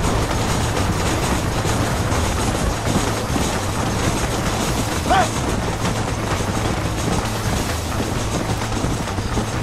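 Steam train rolling along the tracks in the Red Dead Redemption western video game, a steady broadband rumble with low mechanical drone throughout, heard continuously under game action and occasional voices.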